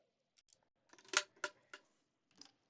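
Scissors snip a thread tail while binding a quilt edge with a facing: a few soft, close clicks and short crisp cuts, with one sharper snip standing out, alone with no talking.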